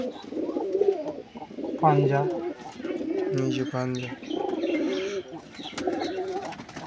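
Female pigeons cooing softly in a loft, with low repeated coos running through the clip while someone talks over them close by.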